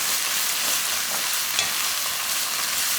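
Cabbage seasoned with soy sauce being stir-fried in a pan, a steady close hiss of frying with soft stirring scrapes running unbroken for a few seconds, with no talk.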